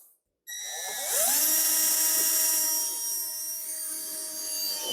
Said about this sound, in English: we're just going to drill into these two holes